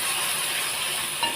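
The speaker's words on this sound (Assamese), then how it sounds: "এইখিনি খুব ভালদৰে ভাজিব লাগিব" Ground spice paste fries in a pan, giving a dense, steady sizzle that stays loud and even across the short stretch, with a faint clink near the end.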